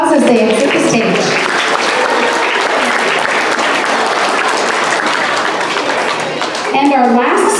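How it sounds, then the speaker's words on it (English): At a school award ceremony, a crowd claps steadily and loudly as students leave the stage, the applause filling the whole stretch, with brief speech over it near the end. "let's give them one more big round of applause as they exit the stage"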